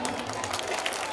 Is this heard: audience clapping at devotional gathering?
yes